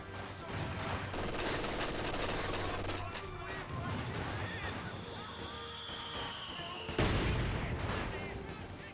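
Machine-gun and mortar fire from a Company of Heroes 2 battle, with an MG42 firing on conscripts and a double mortar impact, rattling steadily under continuous background noise, with a louder burst late on.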